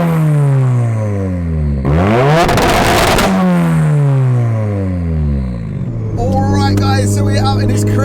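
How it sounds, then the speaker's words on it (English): Dry-sumped 600bhp Mazda MX-5 revving hard, its engine pitch sweeping up and down through repeated pulls, with a burst of harsh anti-lag crackle and popping between rises, loud and close from inside the car. "So we're out in this crazy MX-5, the revving absolutely crazy."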